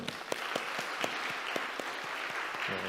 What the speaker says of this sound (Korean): 우리 서로를 격려하는 마음을 한번 박수할까요?